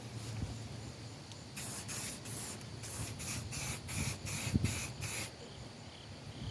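Spray paint hisses onto a rare two-stroke mower being repainted during a restoration, in a run of about eight short, evenly spaced bursts, close and fairly loud, with no talking.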